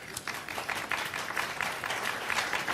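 Applause from an audience at a talk on ancient human history, steady dense clapping sustained at moderate volume for a few seconds with faint crowd murmur underneath.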